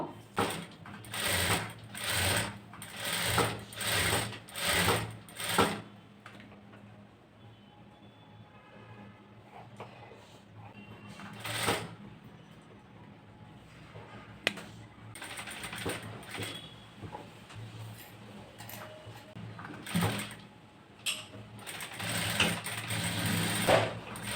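A sewing machine stitches a blouse in short mechanical bursts of rapid whirring, with quiet gaps for handling the fabric in between, and no voices.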